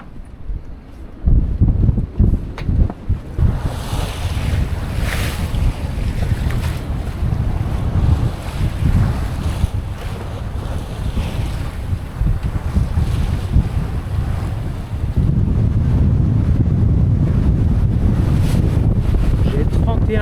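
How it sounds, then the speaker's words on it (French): Strong 31-knot wind batters a sailboat anchored among Greek Dodecanese islands, gusting roar and microphone buffeting with sloshing water, rising to a sustained heavier blast in the last few seconds. "J'ai 31 nœuds de vent là."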